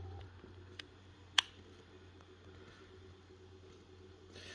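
A Toshiba hard drive runs with a quiet, steady low hum and a faint high whine, broken by a couple of brief sharp ticks or clicks early on.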